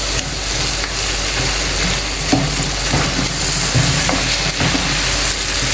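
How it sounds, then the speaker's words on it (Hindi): Tomatoes mashed into olive oil in a karahi for Peshawari Shinwari chicken karahi, giving a steady, close frying sizzle with soft scraping and stirring throughout and no talking. "जो हमने टमाटर डाले हैं वो आप मैश कर लें इसमें अच्छी तरीके से"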